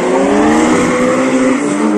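BMW launching in a drag race, with a loud, sustained high-revving engine roar that climbs steadily in pitch as the car accelerates hard, close and dominant throughout.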